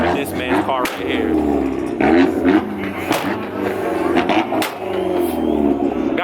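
An import car's exhaust two-step revving at a loud car contest in Dallas, with sharp popping bursts and roaring engine over crowd noise and talking, heavily distorted and overwhelming.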